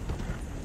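Horse hooves clip-clop steadily and close up as a horse is ridden in the video game Red Dead Redemption 2, with a dense, continuous patter over the brief stretch.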